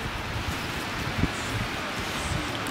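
Strong wind blows outdoors in a steady, broad rushing roar that buffets the microphone, with faint rustling mixed in and no clear talk.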